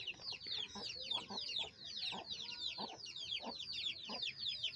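Hens cluck and chatter continuously nearby, a busy layered flock sound with scattered squawks and no talking.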